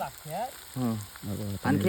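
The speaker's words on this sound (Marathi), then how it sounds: "फोडणी देत आहे" Garlic frying in hot oil for a Marathi-style tempering (phodni), cooked outdoors, with a steady sizzle under voiced, harmonic sounds that come and go.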